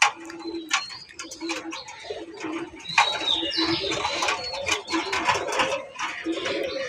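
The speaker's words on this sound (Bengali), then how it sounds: "কবুতরগুলো খাবার দিব কবুতরকে, সেই জন্য কবুতরগুলো এইরকম করতেছে" Pigeons crowd a coop before feeding, giving steady close cooing layered with chirps, wing flutters and scratchy movement.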